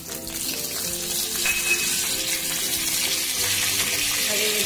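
Curry leaves and mustard seeds with cumin sizzling in hot oil in a pan, a steady close, hissing crackle that holds evenly throughout without any talk.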